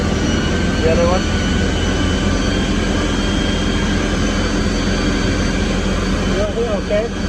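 A stock Subaru Impreza STi RA with no exhaust runs on a dyno, making a loud, constant engine roar that fills the whole span, with brief voices breaking in over the noise.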